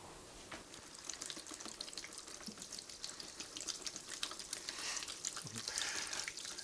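Warm water pours from a tap onto a block of coconut coir for soilless seed starting, a continuous close splashing and trickling that grows slightly louder toward the end.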